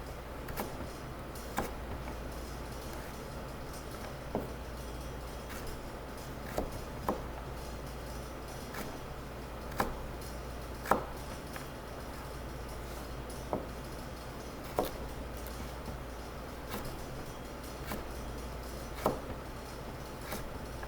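A knife cuts sweet potato into batonnets on a cutting board, giving sharp, moderate taps at irregular intervals over a steady low background hum.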